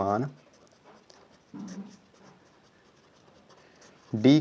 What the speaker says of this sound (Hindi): तो यहाँ से लिखते हैं हम